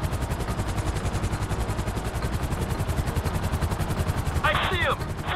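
Several helicopters in the video game Grand Theft Auto 5, heavy steady rotor thumping that fills the whole stretch, loud and close, with a short whooshing burst near the end and a voice speaking over it.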